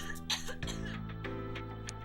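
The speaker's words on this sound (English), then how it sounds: "Excuse me while I cough here." A single cough from a man, heard close over steady background game music with sustained tones.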